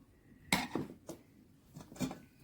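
A spoon clinks against a cooking pot while spices are stirred in, giving several light metallic taps at an irregular rhythm, close and fairly quiet, with no talk.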